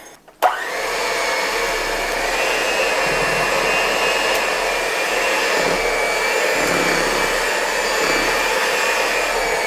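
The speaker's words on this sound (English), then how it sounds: "We're bringing out the mixer." An electric hand mixer whirs steadily and loudly through flour batter, starting abruptly after a brief pause and holding a constant motor drone to the end, with no talking.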